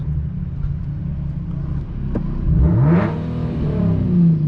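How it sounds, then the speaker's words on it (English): An Infiniti G37X fitted with Vibrant resonators sits parked at idle, then its engine is revved twice, the note rising and falling in two throaty, aggressive sweeps close by, with no talking. "Give y'all a couple of revs."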